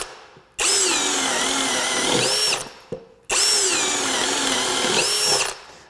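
A Flex power drill bores a hole with a half-inch spade bit in two loud, close bursts, each a high whining spin that rises and sags under load before stopping.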